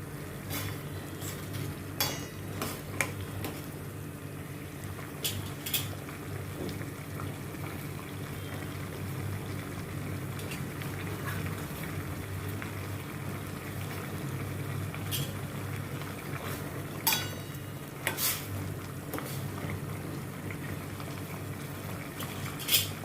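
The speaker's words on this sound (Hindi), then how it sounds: "अभी इसको अच्छी तरह से मैं घुमाती हूँ, और जब पानी इसका अच्छी तरह से ड्राई हो जाए।" Chana chaat mixture is stirred in a pan as its water cooks off: a steady simmering hiss, punctuated by scattered sharp clicks and scrapes of a utensil against the pan, with no talking.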